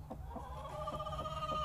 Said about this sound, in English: Chickens are fucking scary.